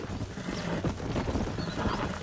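Horse neighing and stamping its hooves while being broken and tamed in Red Dead Redemption 2, snorts and whinnies with clip-clop steps, moderately loud amid outdoor ambience.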